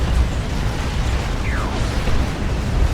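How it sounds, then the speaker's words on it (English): A grenade blast in the Dawn of War 2: Retribution strategy game lands amid a busy firefight, a heavy rumbling boom over continuous low battle noise with crackling bursts, loud and sustained throughout. "Grenade goes off"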